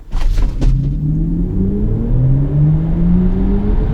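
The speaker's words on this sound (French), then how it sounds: "Je vais vous refaire un départ arrêté Hans Zimmer, j'y résiste pas quand même." A BMW i4 M50 electric car launches from a standstill with its synthetic Hans Zimmer drive sound: a smooth rising whir and hum that climbs steadily in pitch over a low rumble, loud and close.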